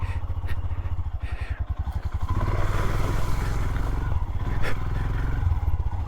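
An adventure motorcycle rides through a canyon in southern Utah, its engine droning steadily and loudly close by, with clattering and scraping from rough terrain under the wheels throughout.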